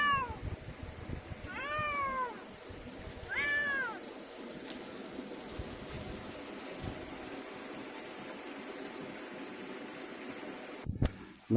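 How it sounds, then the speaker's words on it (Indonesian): A cat following someone along the rice fields meows three times in quick succession, close and clear, over a soft continuous trickling, outdoor background, followed by a long stretch of quiet ambience. "Ada kucing juga mengikuti Iyok pemirsa nih."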